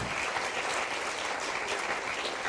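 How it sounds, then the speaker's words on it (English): An audience at a climate change panel session applauds the panelists with a dense, steady wash of clapping that holds at an even level for the whole stretch, with no voices over it. "we still have time to applaud our panelists, to thank them"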